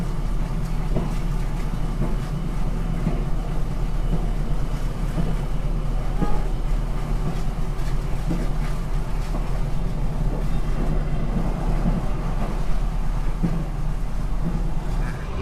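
Dharmawangsa executive train cruising at about 98 km/h, a steady low rumble and rolling roar heard from inside the carriage, continuous and even throughout with faint clicks over it.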